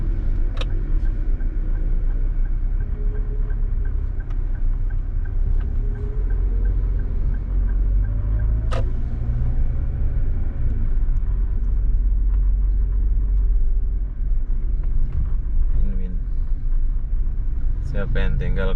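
Cars pass steadily along a city street in Batam, a continuous low traffic rumble with a few passing vehicles rising and fading, and people talk over it now and then.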